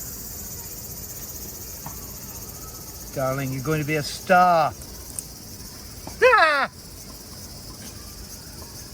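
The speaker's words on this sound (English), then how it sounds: "Lovely cicada song." Cicadas in a Japanese summer sing in a steady high buzz throughout, broken by a few short bursts of speech and a loud exclamation near the end.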